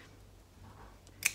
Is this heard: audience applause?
no